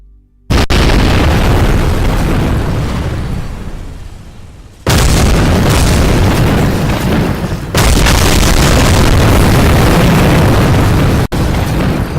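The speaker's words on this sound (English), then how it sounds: "And here's the explosion." A spacecraft crashes and explodes in the video game Kerbal Space Program, a loud, sustained roaring blast that fades, then bursts again twice with heavy rumbling, and no voices.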